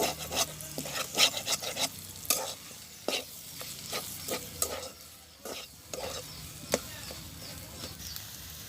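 Soft loitta fish bhorta fried with oil and coriander leaves in a wok, stirred with a spatula that makes sharp irregular scraping strokes against the metal over a quiet sizzle.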